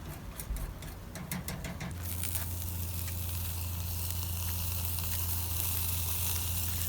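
Meat sizzles steadily on a hot charcoal barbecue, a soft continuous crackle and hiss with scattered pops, joined after a couple of seconds by a low steady hum, with no talking.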